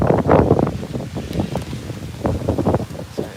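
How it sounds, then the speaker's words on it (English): Gusty wind rises on a rainy night in Tokyo during cherry blossom season, buffeting the microphone in uneven, rumbling surges that swell and fade across the whole stretch, loud and close, with no voices. "the wind is picking up a little"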